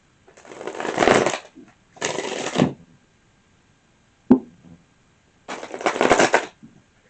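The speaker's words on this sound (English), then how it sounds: "I try to shuffle sideways so it's not directly in front of the microphone" Tarot cards are shuffled sideways in several separate rustling bursts, each about a second long, with a sharp tap between them and quiet pauses, no talking.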